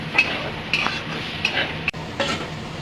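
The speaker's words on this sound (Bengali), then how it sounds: "এবার এই বেটে রাখা মশলাটা দিয়ে দেবো এর মধ্যে। আমি এটা মিশিয়ে দেবো।" Ground spice paste is stirred into samosa filling frying in a pan, with a gentle sizzle underneath repeated close spoon scrapes and clinks against the metal.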